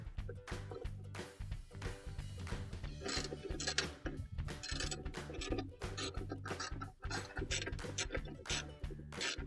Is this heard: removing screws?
yes